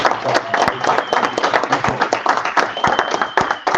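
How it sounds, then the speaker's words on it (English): An audience at a live summit gives a round of applause, a loud, continuous patter of many hands clapping close by, with crowd noise mixed in. "Give Marlon a round of applause."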